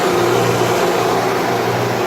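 A Solem wood planer with a 1750 RPM motor and dual belt drive running idle, a loud, steady humming drone with a constant low tone and no talking.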